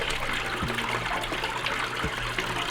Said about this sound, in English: The sound of the running water just brings the whole setup to life.